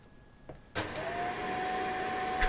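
After a quiet moment and a click, a vacuum cleaner starts up and runs with a steady whine and roar, somewhat muffled, no speech, as picked up by a Creative Live Cam Sync V3 webcam microphone.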